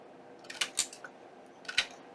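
Scissors trim the edge of glued paper on a 12 x 12 paper-pad journaling project, a few quiet, crisp snips in two small bursts, close and otherwise silent.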